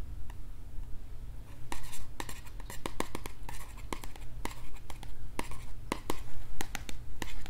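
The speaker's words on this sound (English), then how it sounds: "Can you hear the pen and paper?" Pen scratching across paper in a quiet room, a series of short scraping strokes at an uneven pace, with a low steady hum underneath and no talking.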